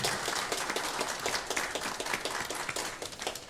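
A church congregation at a Sunday worship service applauds together in dense, steady clapping that fills the room from start to finish.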